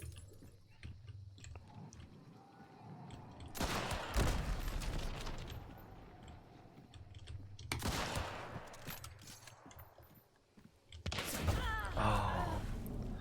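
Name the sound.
gunfire in the video game Hunt Showdown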